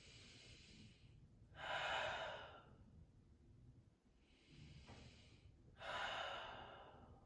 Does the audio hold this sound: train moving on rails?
no